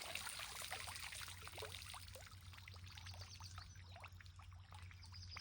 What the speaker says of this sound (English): Water's dripping out of the suppressor.